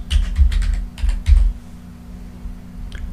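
Quick keystrokes on a computer keyboard while a project name is entered in video editing software, a close burst of clicks over about a second and a half, then a pause and one last tap.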